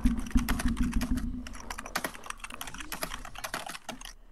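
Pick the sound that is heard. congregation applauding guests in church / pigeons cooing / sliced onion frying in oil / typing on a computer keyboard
typing on a computer keyboard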